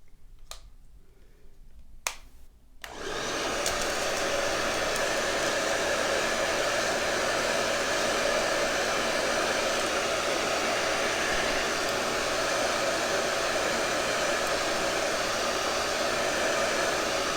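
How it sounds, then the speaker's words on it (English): A hair dryer on a cool setting switches on after a couple of faint snaps and then blows loud and steady at close range until the end, with no talking. "I think we're going to do the blow dryer."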